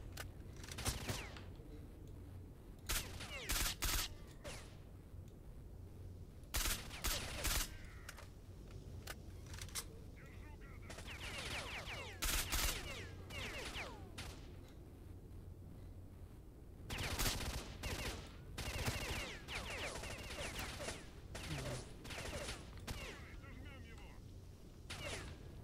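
Gunfire from a shootout in the video game S.T.A.L.K.E.R.: Shadow of Chernobyl, with repeated bursts of shots and blasts scattered across the clip over a steady game background, moderately loud.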